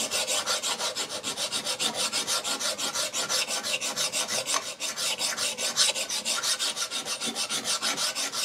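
A hand file rasps rhythmically over a workpiece, a fast even series of harsh scraping strokes repeating close and loud without pause, with no talk.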